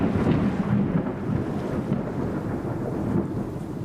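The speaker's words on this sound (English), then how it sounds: "A fierce storm has us running for shelter." A fierce thunderstorm with heavy rain and wind at sea near an island, heard as a loud continuous roar of rain and rumbling thunder, with gusty wind buffeting the microphone throughout.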